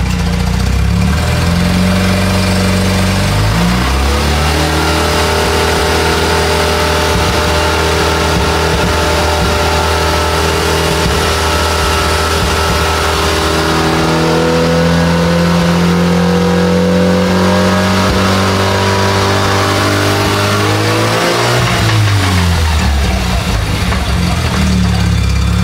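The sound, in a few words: Mazda RX7 engine revving through the gears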